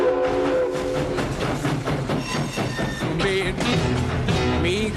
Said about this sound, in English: 그때 기차 소리가 들리고